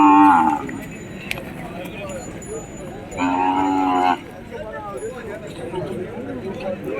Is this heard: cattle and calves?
yes